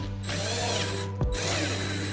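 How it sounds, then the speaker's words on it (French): A power drill twisting wire clamped in its chuck whirs steadily at high speed, pausing briefly midway before spinning up again, loud and close. "Serrez l'extrémité du fil dans le mandrin d'une perceuse."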